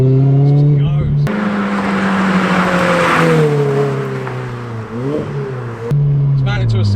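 A supercharged car with a Toyota 1.8 VVTi engine and six-speed gearbox revs hard, its loud engine note rising and holding before easing off, with a short break and a voice talking at the start and end.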